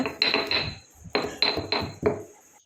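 A hard object pounds nutmeg on a grinding stone, making about seven sharp knocks in two uneven groups. Each knock rings briefly and sounds close and clear, with no talk.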